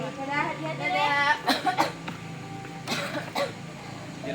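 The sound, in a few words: child coughing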